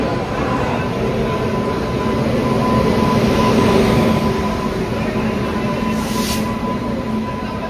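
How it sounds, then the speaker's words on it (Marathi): Steady rumble and rattle of a moving passenger train leaving Vasai, heard from inside a carriage, continuous and loud, with a brief high squeal near the end. "आपली ट्रेन फायनली वसईवरून सुटलेली आहे"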